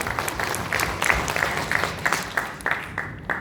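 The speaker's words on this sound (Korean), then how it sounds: "여러분 박수로 환영해 주시면 대단히 감사하겠습니다" Applause at a book launch event in Songdo welcomes guests onto the stage, with moderately loud clapping in a fairly regular rhythm that thins out toward the end.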